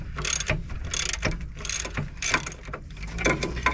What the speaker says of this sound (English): normal ratchet now, and she's nice and loose